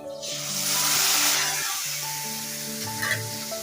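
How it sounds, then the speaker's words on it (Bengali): Prawns hit hot oil in a pan for a Bengali prawn malai curry and burst into a loud, steady sizzle that holds for several seconds, with a brief dip partway through and a faint background hum. "সামান্য তেলটা গরম হলে এতে আমরা দেব এই চিংড়ি মাছ"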